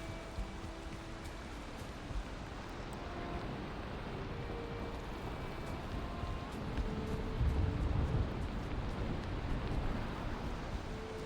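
Steady rain falls in the video game Valheim as a constant soft hiss and patter, with low rumbling underneath and occasional faint tones from the game.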